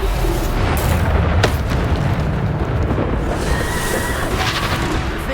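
Bombarda spell blasts in the Hogwarts Legacy video game, a dense, continuous roar of booming explosions and rumble, loud and sustained without pause.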